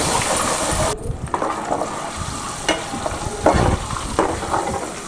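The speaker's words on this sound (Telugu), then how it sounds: "అవి వేసుకొని ఎగ్స్ అన్నీ వేసుకొని బాగా ఫ్రై అయితే చేసుకుంటున్నాను" Eggs frying in a pan with ridge gourd curry, a steady loud sizzle with scraping stirring strokes, heard close and without talk.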